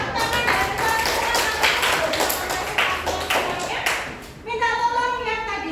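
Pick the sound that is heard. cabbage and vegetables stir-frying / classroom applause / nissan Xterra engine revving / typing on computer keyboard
classroom applause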